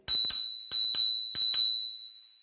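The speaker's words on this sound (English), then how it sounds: "Hiding over on the left side of the handlebar is a bell." A bicycle bell on the left side of a Hitway BK6M eBike handlebar rings three times in pairs of bright, metallic dings, each one ringing out and decaying. The rings are close and loud with no talk.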